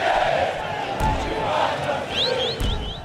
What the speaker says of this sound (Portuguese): Som do hino, a comemoração com a torcida.